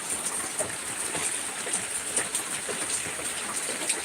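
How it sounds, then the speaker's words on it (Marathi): Steady rain falls outdoors, a dense even patter of drops hissing on surfaces, moderately loud and continuous with no voices. "पाऊस चालू आहे बघा आमच्या इकडं"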